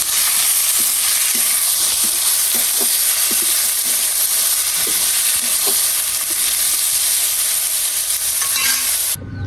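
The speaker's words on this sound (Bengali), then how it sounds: "এটাকে ভাজি করবো" Potatoes and peanuts fry in a pan over a tempering of dried chillies and cumin, a loud, continuous close sizzle broken by light scrapes of stirring, then cut off abruptly at the end; no one speaks.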